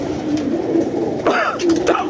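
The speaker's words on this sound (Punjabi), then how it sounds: "ਇਹ ਕਬੂਤਰ ਹੈ ਮੇਰਾ" A pet pigeon gives a soft, close coo, a short throaty burble lasting a couple of seconds.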